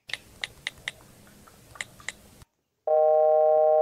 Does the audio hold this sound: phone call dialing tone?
yes